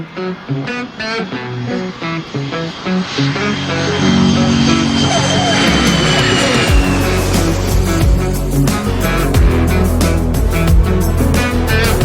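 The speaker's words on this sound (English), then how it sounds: "runway 27, clear for takeoff" An airplane takes off from runway 27. Its engine roar builds from choppy, uneven bursts into a loud, sustained drone with a rising whine as the aircraft accelerates.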